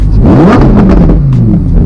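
A Lamborghini Huracán Performante Spyder sports car in Corsa mode revs its exhaust once, very loud and close, with the engine note climbing and then settling back down.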